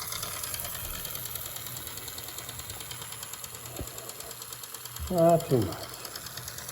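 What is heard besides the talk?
Santa Fe mini toy train running after oiling axles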